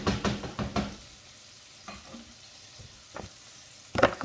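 Dominican eggs fry in a pan while being stirred: a quiet sizzle broken by several sharp scrapes and knocks of the utensil, clustered at the start and again at the end.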